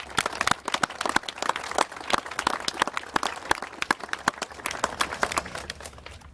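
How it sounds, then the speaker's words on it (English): Audience at a bill signing ceremony applauding, a dense run of quick overlapping claps, moderately loud and steady, with no talk over it. "Please give yourselves a round of applause for this."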